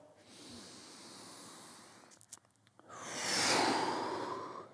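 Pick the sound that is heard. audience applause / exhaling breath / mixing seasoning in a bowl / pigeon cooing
exhaling breath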